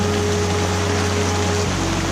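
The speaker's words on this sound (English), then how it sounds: "with relentless, drenching rain." Relentless, drenching rain pours onto a sailing boat at sea after a stormy night, a dense, constant hiss with a low steady hum underneath.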